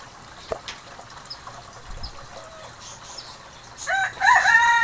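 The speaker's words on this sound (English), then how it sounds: "I hear the chickens." Quiet outdoor background with faint knocks, then a rooster starts crowing near the end, clucking fowl audible around it.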